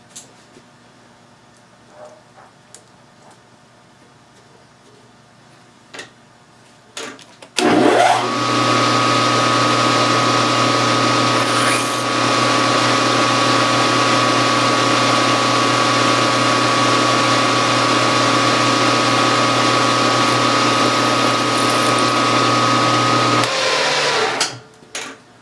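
Drill press boring into a Kerzel cylinder head with a 3/16 drill, running at a steady loud whine with strong harmonic hum for about sixteen seconds before spinning down, preceded by faint handling clicks.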